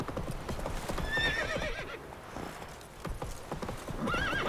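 A horse gallops in The Witcher 3, hooves pounding close and loud with a whinny breaking through, while a faint voice murmurs briefly underneath.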